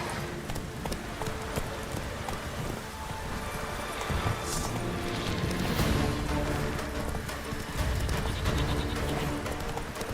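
Roach the horse gallops in The Witcher 3 video game, with a loud, continuous clip-clop of hooves thick with game music and ambience and the odd snort, and no clear talking.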